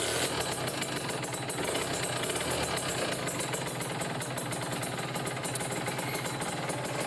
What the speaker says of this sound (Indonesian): sekarang hidupkan dulu motornya